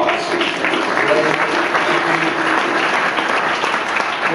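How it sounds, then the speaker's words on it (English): An audience at a conference opening ceremony applauds, loud and sustained, a dense wash of clapping from many hands that holds steady throughout. "So please give ourselves great applause"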